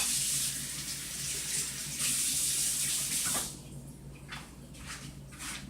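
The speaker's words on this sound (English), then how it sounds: "Let me wash my hand." A kitchen tap runs steadily as hands are washed under it during pastry-dough preparation, a loud continuous rush that drops to a softer, uneven splashing after about three and a half seconds.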